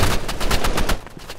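Machine gun fire in the Roblox Rivals first-person shooter game: a loud, rapid burst of about ten evenly spaced shots that continues through the whole short stretch and sits close and up front.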